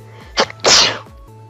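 A single loud sneeze close by, a short intake burst followed by a broad explosive blast lasting about half a second, with faint game background tones underneath.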